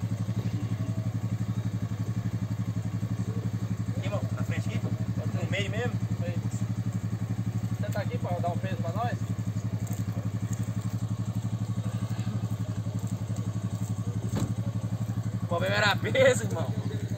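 A quad bike engine drones steadily as it pulls through a muddy bog at an off-road event, a constant mid-pitched rumble running throughout, with voices and brief clatter over it.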